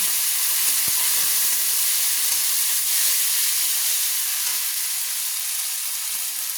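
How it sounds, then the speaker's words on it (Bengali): Ginger paste sizzles steadily in a hot pan for a Bengali hatchery chicken curry, a dense frying hiss with occasional soft scrapes of stirring, close and continuous with no talk. "আদা বাটা দিয়ে দিলাম। দিয়ে আবারও ভালো করে আমি নেড়ে নিচ্ছি।"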